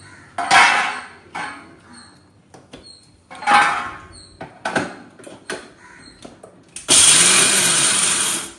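A kitchen mixer grinder grinding peanuts: several separate clunks and brief rattles of the jar are followed by a loud, steady electric whir when the motor runs near the end, with no voices.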